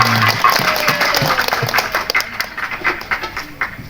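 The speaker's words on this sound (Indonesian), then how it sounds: "Masya Allah tepuk tangan untuk jamaah semua" Crowd at an outdoor Islamic Maulid Nabi religious gathering in Indonesia claps for the congregation, irregular bursts of clapping fairly close, thinning into scattered claps toward the end.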